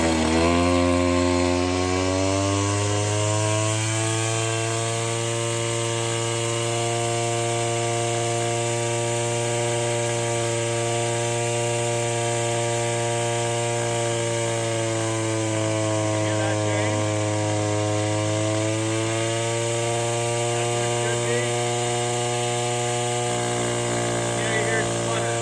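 An old Stihl brush cutter's small two-stroke engine runs loud and steady at close range, its pitch drifting slightly up and down as the idle is adjusted, with a voice speaking faintly underneath.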